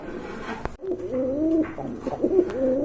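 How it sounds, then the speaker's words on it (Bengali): A pair of Bombay pigeons coos close by, with soft, rolling, wavering calls that continue through most of the moment after a brief handling thump. "খুব সুন্দর এক জোড়া কোয়ালিটি সম্পন্ন বোম্বাই কবুতর দেখতে পাচ্ছেন"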